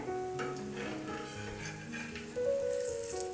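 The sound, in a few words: bathua cutlet frying on a pan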